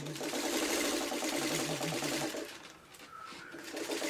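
A sewing machine stitches a purse seam in a fast, even mechanical rattle that runs near and steady, briefly slows and drops, then resumes with a faint squeak.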